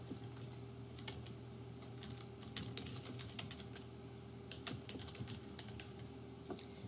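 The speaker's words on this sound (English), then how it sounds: "Then you would go ahead and type your information in here" Keys clatter on a computer keyboard while discussion-board information is typed in, steady soft tapping with a few louder keystrokes over a low constant hum, no voices.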